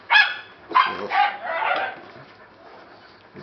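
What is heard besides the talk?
dogs barking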